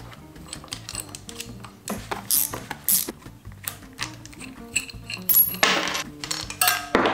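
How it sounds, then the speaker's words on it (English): A chain breaker tool is pressed against a motorcycle chain to push a rivet out during a Honda CRF300L supermoto build, giving close metallic clicks, scrapes and ratcheting taps that build in loudness. "we push this pin forward in there, and it'll force that rivet out the backside"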